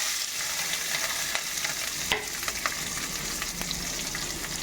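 Chopped onions and green chillies hiss and crackle in a pan over raised gas heat for a chicken dish, with a constant sizzle and spatula scrapes and taps throughout, and no voices.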